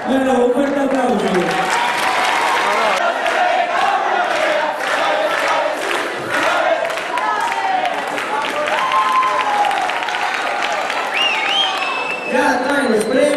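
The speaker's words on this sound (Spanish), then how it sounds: "un fuerte aplauso" Loud, sustained applause at a Galician scout festival, dense crowd clapping mixed with cheering and shouts that carries on for several seconds before voices break through near the end.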